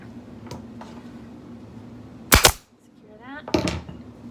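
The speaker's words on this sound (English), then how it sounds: "secure that with a staple" A staple gun fires staples through upholstery fabric into a dining chair frame. Two sharp, close snaps come about a second apart, with a brief voice between them over low room noise.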